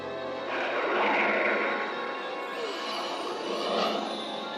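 A cartoon aircraft comes in to land in He-Man, giving two broad, airy engine whooshes that swell and fade at moderate loudness, with no talking.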